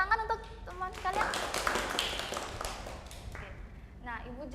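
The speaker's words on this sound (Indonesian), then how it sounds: "Boleh tepuk tangan untuk teman kalian?" Students in a microteaching class clap for their classmates, a brief scattered round of light claps that follows talk and fades as voices return.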